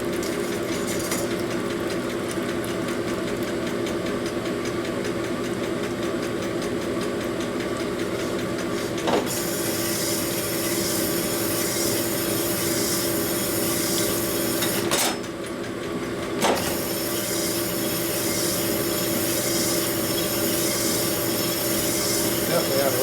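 A rusty 1957 Harley-Davidson Panhead cylinder is honed with a steady, continuous metallic grinding and rubbing drone that runs close and loud throughout, with a couple of brief clunks and breaks partway through.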